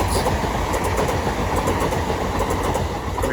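Pair of Class 377 electric multiple units passing at New Cross on the South Eastern Main Line, a dense steady rumble and rattle of wheels and carriages, close and continuous throughout with no talk.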